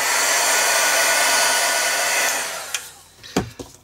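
A hair dryer blows steadily and loud over an art journal page, then cuts off, followed by a few sharp handling knocks and taps.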